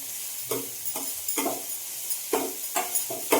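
Ingredients for a tangy Karnataka huli gojju, joined by greens, fry in a pan over high flame, giving a steady hiss broken by several bursts of stirring and scraping.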